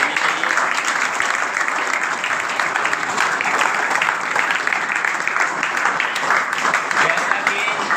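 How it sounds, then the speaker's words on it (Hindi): Loud applause for Hemendu Academy at an honouring ceremony in Karola, a sustained dense clapping from a gathered audience, with voices faintly underneath. "एक बार जोरदार तालियां"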